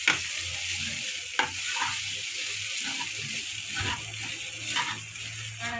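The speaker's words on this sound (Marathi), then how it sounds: "आपण हे पोहे घालणार आहोत। पोहे चांगले परतून घ्यायचे," Poha (flattened rice) stir-fried in a pan with onion, a continuous sizzle beneath repeated scraping strokes of a spatula, close and steady, without talk.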